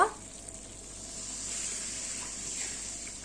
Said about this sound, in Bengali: দেখো মশলা কিন্তু কষানো হয়ে গেল।